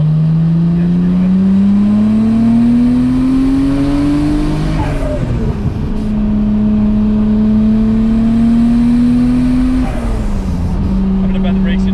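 Nissan R34 GTR with titanium intakes pulls hard at wide-open throttle, its engine note climbing steadily, dipping at a gear change, then rising again, loud and close throughout.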